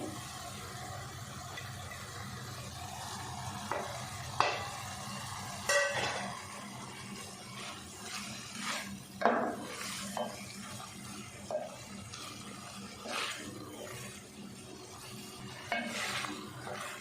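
Bitter gourd and finely chopped onions frying in a pan, a steady low sizzle with scattered sharp clacks and scrapes of stirring, close and fairly quiet, no voices.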